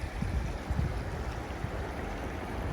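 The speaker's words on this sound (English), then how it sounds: "So I'm showing you the river here." The Grand River in Ashtabula, Ohio, flowing as a steady, broad outdoor wash of moving water with low rumbling wind buffets, continuous and fairly close, with no voices.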